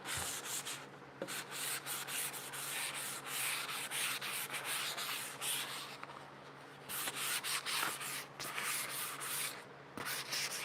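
Hand sanding runs back and forth along the chamfered edge of a wooden table, a soft, close, continuous scratchy rubbing with a steady stroke rhythm and no talking.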